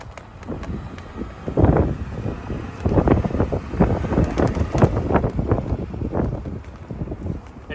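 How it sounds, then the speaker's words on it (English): Gusty outdoor wind buffeting the microphone in irregular loud bursts, with a faint voice now and then underneath. "Oh, here comes the wind."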